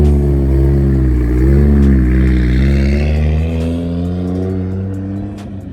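A Toyota Supra with a naturally aspirated 2JZ-GE engine and titanium exhaust revs steadily up and down, a loud, close, deep engine drone with rising and falling pitch, alone without talk.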